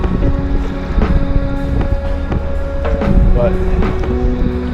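Steady wind buffets the microphone on Lake Superior while kayaking near Pictured Rocks, a loud continuous roar with gusty swells, and a voice briefly speaks over it.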